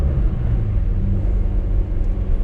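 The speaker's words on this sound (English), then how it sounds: "Here's a rev match downshift" A manual-transmission car engine rumbles steadily up close during a rev-matched downshift, a deep, even drone with no sharp revving spike.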